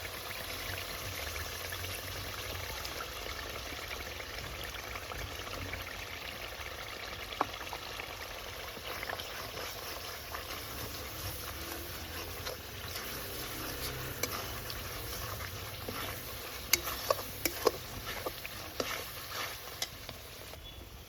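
A cashew and melon seed paste cooks into a masala for potato dum, giving a steady low sizzle with faint stirring scrapes that grow busier near the end.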